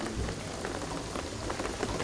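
Dense rain falls continuously in the video game Shadow of the Tomb Raider, a close, even hiss of drops spattering on surfaces with scattered louder splashes and no voices.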